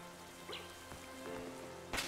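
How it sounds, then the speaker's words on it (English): Steady rain falls in Pokémon Violet, a soft continuous patter with a few faint droplet ticks and one brief louder spatter near the end, no talking. "as soon as I loaded it up, it is raining, which is cool."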